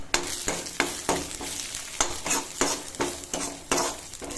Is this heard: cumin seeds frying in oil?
yes